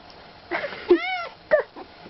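A cat gives a short drawn-out meow followed by a briefer second call, close and moderately loud, with faint room noise between the cries.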